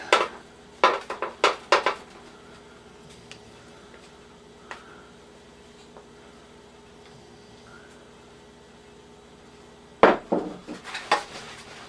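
Microwave fudge is scraped from a bowl into a pan, with clusters of close utensil clatter and scraping at the start and end and a quiet gap between.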